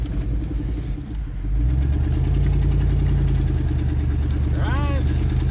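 A cold-started Automixer 6 engine settles into a steady, low rumbling idle that grows louder and fuller after the first second and a half, holding an even drone to the end, with a brief chirping sound near the close.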